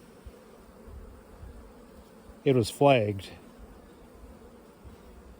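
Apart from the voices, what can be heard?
honey bees buzzing in a hive box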